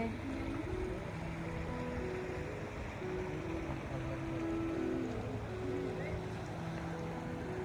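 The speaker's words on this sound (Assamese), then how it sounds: "নাও চলি আছে" On the Brahmaputra river a boat moves along, its steady low droning hum carrying over a constant wash of water and wind, moderately distant and unbroken throughout.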